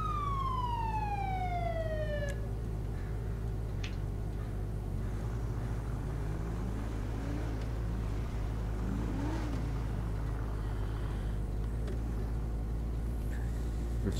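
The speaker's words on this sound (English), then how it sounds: "we're just gonna turn on our siren" A police car siren in a Roblox police roleplay game, a wailing sweep that rises and falls over a steady engine drone, with no talking.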